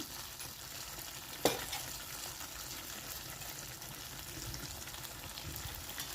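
Masala frying in oil in a pan, a soft continuous sizzle with faint stirring and one brief sharp clink, quiet and close.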